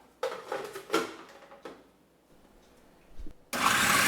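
A blender blitzes Thai curry sauce paste in a home kitchen, starting abruptly as a loud, steady broadband whir near the end, after earlier clatter of kitchen handling.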